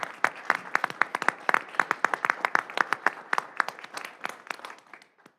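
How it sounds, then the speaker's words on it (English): A small group at a city council meeting claps for several seconds, sharp close handclaps at a steady patter that thins out and stops. "with a round of applause."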